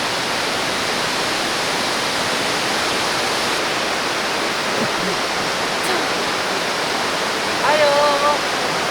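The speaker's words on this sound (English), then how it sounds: "There's literally 1, 2, 3 and 4 waterfalls right behind us right now." Several waterfalls at Sekumpul in Bali produce a constant roaring wash of falling water. The roar is loud and steady from start to finish, with faint voices almost buried beneath it.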